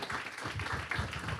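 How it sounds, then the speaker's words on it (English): An audience at a book talk claps and snaps, a dense, steady patter of many hands at moderate distance, with some voices mixed in. "Can y'all clap it up, snap it up for Derecka Purnell"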